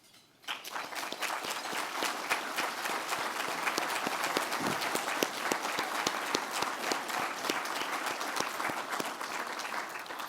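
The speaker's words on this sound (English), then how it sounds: "I'd like them to stand and have a round of applause." A room of breakfast guests at a legal-aid fundraiser breaks into a sustained round of applause for standing judges and elected officials, dense clapping starting abruptly and holding steady for about ten seconds.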